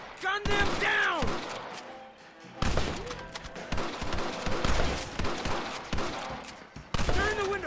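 Heavy gunfire from a Western shootout in the video game Red Dead Redemption, with repeated loud shots and volleys in bursts across the scene, mixed with shouted voices and in-game dialogue.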